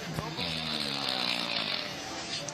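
A person imitates a racing engine by snoring, a loud rasping, rumbling buzz with a harmonic drone that rises and holds for a couple of seconds, close to the microphone.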